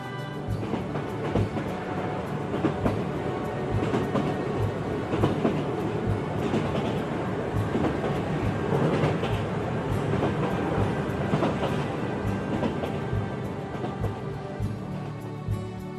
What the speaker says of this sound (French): tu prends plaisir en entendant les bruits du train qui avance